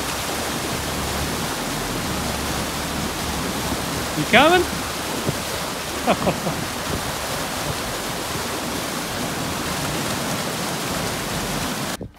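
Strong water rushes through a beaver dam as a broad, steady, close roar of flow, with one short spoken question and a brief whistle-like sound partway through.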